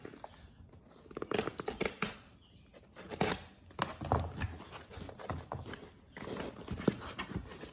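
Graded collectible cards in hard plastic slabs, a mix of basketball and other sports cards from the 1980s onward, are unboxed up close: rustling, tearing and clicking bursts come and go with brief pauses, with no talking.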